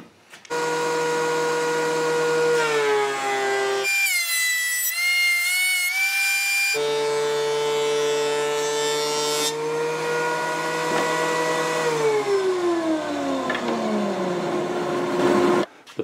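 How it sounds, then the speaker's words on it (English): A woodworking thickness planer with a dust collector running gives a loud, steady machine whine. The pitch drops sharply for a couple of seconds as the cut bogs down, then recovers and tails off near the end. No one speaks. "You need a dust collector if you have a thickness planer."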